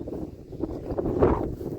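Wind buffets the microphone with low, uneven rumbling gusts, swelling briefly near the end.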